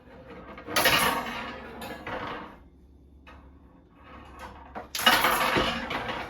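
Bolt cutters snap through metal in sharp, loud bursts near the start and end, with quieter handling noise between, while gear is readied for a walnut harvest.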